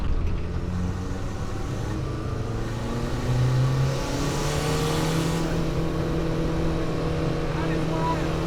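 A turbocharged diesel car engine with a Bosch VE injection pump running at 20 psi of boost revs hard. It gives a loud, continuous drone that rises steadily in pitch, as if heard from inside the car.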